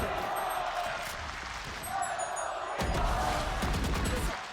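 An arena crowd at the VALORANT Champions Los Angeles 2023 esports match between FUT Esports and T1 on Pearl lets out a broad, rising roar that swells partway through over game sounds.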